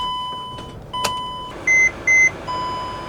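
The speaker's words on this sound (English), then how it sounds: "I also have no clue why it's beeping." Several electronic beeps from a van's dash as it is shifted into drive: a few faint single tones, then two louder, sustained beeps in a row, then one more faint tone, in a quiet cabin with no talk.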